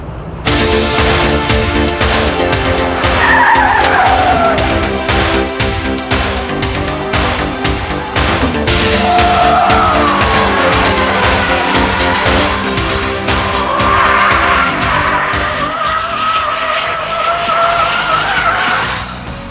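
A BMW 5 Series with traction control switched off skids hard, its tyres squealing in long sweeping wails over a loud, continuous engine roar that holds for the whole stretch, with no talking.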